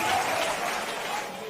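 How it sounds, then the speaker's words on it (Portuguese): Church congregation applauding during worship, a steady wash of clapping from a crowd, moderately loud and even throughout. "todos aplaudindo ao Senhor"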